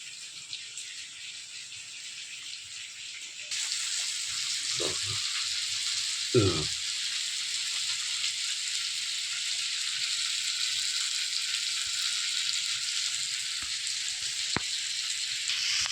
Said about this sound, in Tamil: ரெண்டு பக்கம் நல்லா திருப்பி போட்டு வேக வைக்கணுங்க